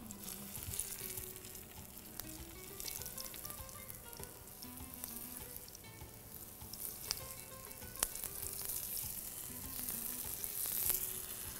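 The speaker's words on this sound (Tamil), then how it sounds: "இந்த கருணக்கிழங்க தனித்தனியாக பிரிச்சுட்டு வறுத்தலாம்." Soaked taro root pieces frying in hot oil, producing a continuous close crackling sizzle with a few sharp pops and light stirring sounds.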